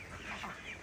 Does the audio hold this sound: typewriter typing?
no